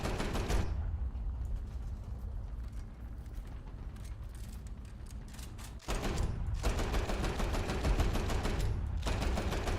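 Aircraft machine guns fire in War Thunder in long, rapid rattling bursts. The first stretch runs steadily, then a louder, denser burst starts partway through with a brief break, over a constant engine drone.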